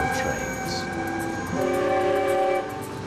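A 1/8-scale miniature train rolls along with a rhythmic clatter while its horn sounds in sustained tones, fairly close and clear.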